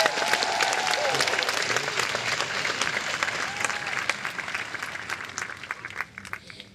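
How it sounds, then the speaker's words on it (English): At a high school graduation ceremony, the crowd gives a sustained round of applause for the graduating seniors, thick steady clapping that slowly thins out toward the end. "Please join me in giving another round of applause for our soon-to-be graduates."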